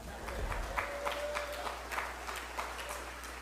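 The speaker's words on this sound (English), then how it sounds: "you can clap if you'd like" Scattered applause from people gathered at a press conference for the AJC Peachtree Road Race, a fairly faint, steady patter of hands clapping at some distance.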